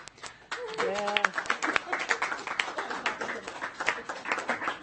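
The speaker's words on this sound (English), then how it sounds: "You can clap for yourself." Clapping from the audience at a school board meeting, a fairly light, uneven patter of hands heard at moderate distance, with a voice speaking briefly over it.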